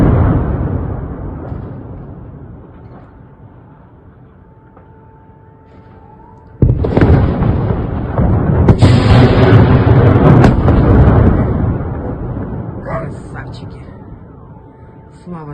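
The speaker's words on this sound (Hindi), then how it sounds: "रशिया के कब्जाई हुई जगह नोवा खाकोवा की जगह पर बड़ा धमाका हुआ है।" A missile strike's blast at Russian-occupied Nova Kakhovka, Ukraine: a loud, heavy explosion booms suddenly after a fading low roar, then a prolonged rumbling roar with crackling bursts that slowly dies away.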